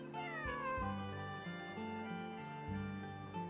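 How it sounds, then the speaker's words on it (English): A cat in a video game lets out a long, drawn-out meow, close and clear, rising and wavering into a caterwaul over a soft musical backdrop. "This is my friend's cat."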